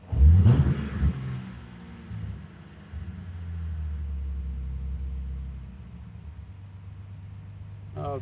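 A BMW E30 engine revving on a dyno during a ramp pull, opening with a sharp burst, then a sustained mid-level rumbling drone that swells and eases off, heard fairly close.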